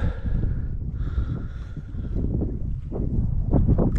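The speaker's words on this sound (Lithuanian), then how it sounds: "Vėjukas nemažas." Strong wind buffets the microphone in low rumbling gusts on a mountain hike near a lake, with a faint tonal whine in the background.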